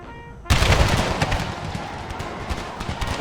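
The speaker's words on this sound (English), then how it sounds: "Oh, they opened fire." A sudden volley of infantry gunfire in a video game battle between Spanish light infantry and Mexico, a loud crackling burst of many shots that rings out and decays into scattered reports.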